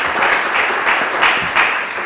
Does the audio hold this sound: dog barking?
no